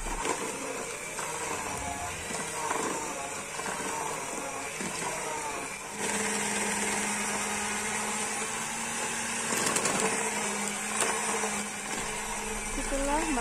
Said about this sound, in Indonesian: margarin, butter, dan sisa gula halus kita kocok dengan mixer sampai tercampur rata menggunakan